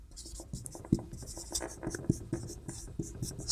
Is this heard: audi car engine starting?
no